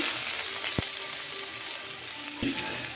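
Chopped onion, garlic and ginger fry in oil in a wok, giving a steady, close hiss of sizzling with two brief knocks of a utensil against the pan.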